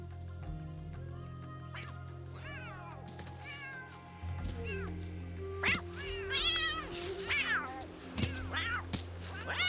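Cats in the video game The Sims 3 meowing repeatedly, a string of clear, drawn-out mews over a continuous game music backdrop, growing busier and louder partway through.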